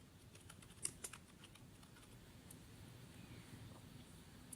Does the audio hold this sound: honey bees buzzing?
no